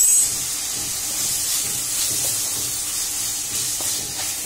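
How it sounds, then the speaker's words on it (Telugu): Chicken with ginger-garlic paste frying in a pan for chicken noodles, a steady close hiss of sizzling that holds at an even level throughout with no talk. "చికెన్ అంతా బాగా వేయిపోవాలి"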